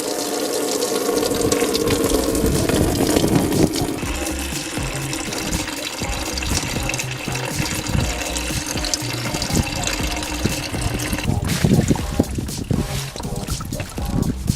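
Coolant drains from a Hyundai Tiburon GT during a thermostat replacement, making a continuous splashing, pouring trickle close by for the whole stretch, with some background noise and faint voices.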